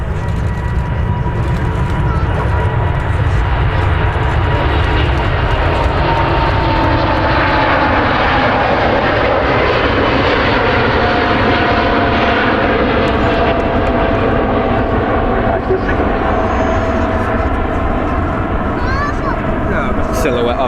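An Air India Airbus A350-900 jet takes off at Manchester Airport with a loud, sustained engine roar that swells and stays steady for about twenty seconds.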